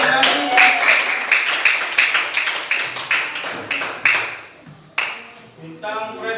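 A classroom of university students clapping for a group after a presentation, uneven bursts of hand claps that rise and fade, with some talking in the room.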